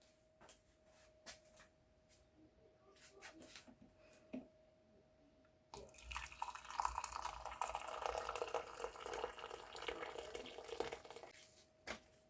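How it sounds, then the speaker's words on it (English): Hot water is poured into a cup holding ground turmeric and whole black peppercorns, a steady, close liquid splashing that runs for several seconds after a few faint clinks and taps. "And then I'll add my hot water and honey."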